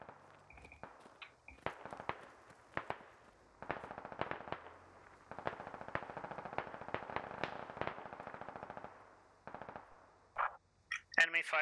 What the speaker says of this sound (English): Enemy fire from that element to the south, too.